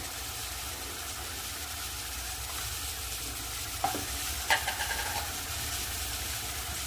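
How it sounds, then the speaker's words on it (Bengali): Spice paste frying and being stirred in a pan for rohu fish curry, a low steady sizzle with a few clinks and scrapes of the spoon partway through, no talk. "ভালো করে মশলাটা কষিয়ে নেবো"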